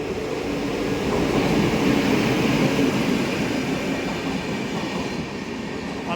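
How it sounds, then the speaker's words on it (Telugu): The Falaknuma Express rolls into platform 2 at Nidadavolu Junction, with a steady loud rumble and clatter of wheels on rails and faint squeals running throughout. "సో ప్లాట్ఫామ్ నెంబర్ 2 మీదకి అయితే ఒక ట్రైన్ అయితే వస్తుంది"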